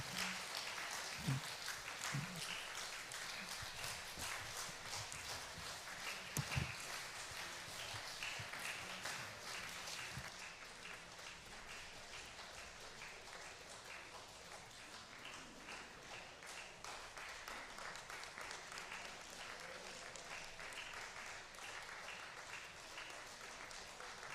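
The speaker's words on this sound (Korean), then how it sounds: "남성들 위해서도 박수 한번 쳐주세요" A church congregation at a joint district worship service gives sustained applause, a dense crackle of many hands clapping that stays steady for the full length before easing slightly in the second half.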